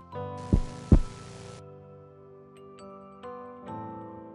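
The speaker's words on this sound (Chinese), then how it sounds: "这是旧厦门街派出所的心跳声。" A heartbeat sound effect for the old Xiamen Street police station: two loud, low thumps close together near the start, followed by faint ringing tones and a sustained hum.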